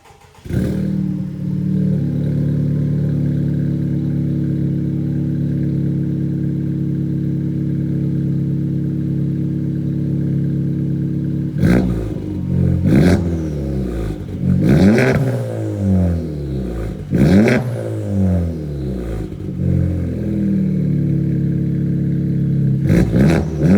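A modified 400 HP 2019 Honda Civic Type R engine starts and idles with a steady, loud drone, then is blipped through a series of sharp, close revs that rise and fall in quick bursts.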